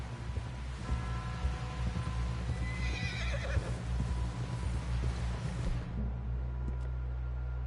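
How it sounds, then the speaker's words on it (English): A horse whinnies loudly over a rumbling, noisy background, with hooves clopping before things quiet down near the end. "Someone help John down off this horse."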